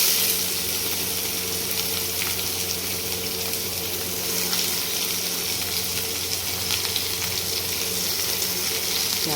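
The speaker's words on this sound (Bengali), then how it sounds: "পেঁয়াজগুলো দিয়ে হালকা ভেজে নেবো।" Onions frying in reused oil in a pan, a constant soft sizzle with faint crackles and a low steady background hum, nobody speaking.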